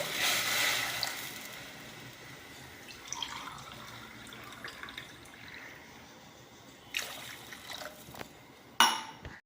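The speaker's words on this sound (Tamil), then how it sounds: "இதில் ஒரு மூணு டம்ளர் புளி தண்ணி ஊற்றப்போகிறோம்" Tamarind water pours and splashes steadily into a pot, fading to softer trickles and drips, with a brief clatter near the end.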